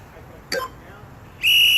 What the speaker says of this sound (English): Notice how he's coming to complete dead hang prior to that tone on 3 seconds, which is the whistle.